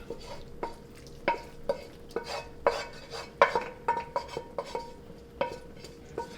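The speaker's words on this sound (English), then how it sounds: "So now we're going to add the sofrito to the paella." Sofrito made with sherry added and stirred into a paella pan for Paella Valenciana, with a soft sizzle under irregular metallic scrapes and clinks of a utensil against the pan, close and clear, with no voices.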